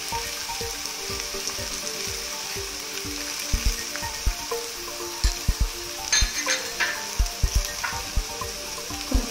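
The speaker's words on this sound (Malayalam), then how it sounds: "ഇനി നമുക്ക് നന്നായിട്ട് ഇളക്കി കൊടുക്കാം." An anchovy fish curry fries and sizzles in a pan with turmeric and curry leaves, while a spoon stirs it, making a continuous crackle broken by regular scraping knocks against the pan.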